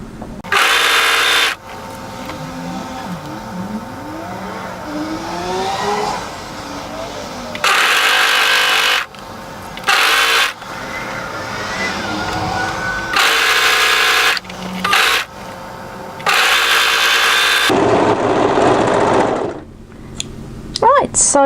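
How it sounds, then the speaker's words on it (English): An overlocker stitches the side seam of a tie-front dress in repeated loud, fast whirring runs of a few seconds each, separated by brief pauses and faint handling noises. "start overlocking from a side seam"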